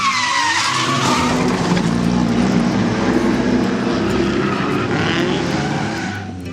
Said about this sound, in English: Typical no consideration, noisy drifters.